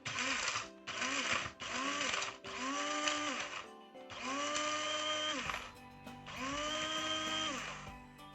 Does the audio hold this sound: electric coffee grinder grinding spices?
yes